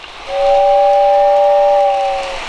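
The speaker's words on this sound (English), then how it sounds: "I really do love the whistle button for sure" The whistle of a Lionel Polar Express O-gauge toy train blows as one loud, steady steam-whistle tone for about two seconds, starting abruptly and tapering slightly at the end, with no talk.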